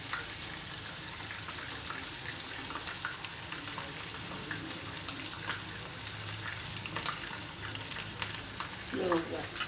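Garlic and ginger frying in oil in a pan, a steady soft sizzle running throughout at moderate level, with faint stirring and a brief louder clatter near the end.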